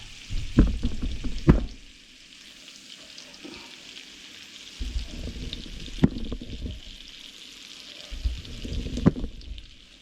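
Butter sizzles and melts in a hot pan while deglazing onion residue for Swedish meatballs, crackling in bursts with a few sharp scrapes and quieter gaps between.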